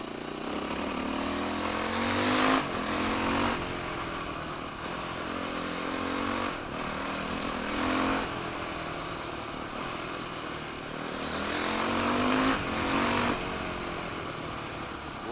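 A dirt bike engine revving hard, rising and falling in repeated surges of throttle, loud and close throughout.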